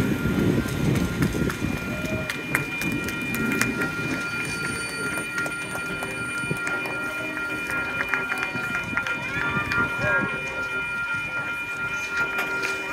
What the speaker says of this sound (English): I wish I could be on that train right now.